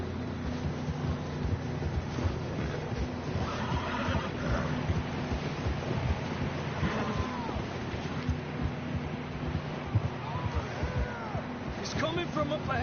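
Horses in a video game whinny and snort while hooves clop beneath, with characters' voices talking over the continuous layered game ambience.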